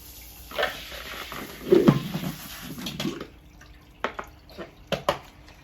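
Tap water runs and splashes intermittently as a small hermit crab tank is rinsed, with soft gurgles followed by a few distinct drips and spatters close by.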